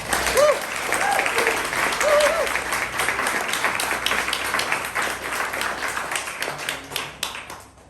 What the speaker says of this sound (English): I'd like to just give Sarah a round of applause for her work this month